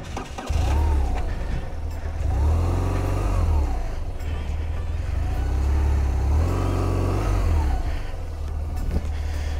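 A motorcycle engine on a solo TET France ride rumbles up close, swelling twice in rising revs as it pulls away after a gear change, with a low throbbing drone between the surges and no talk.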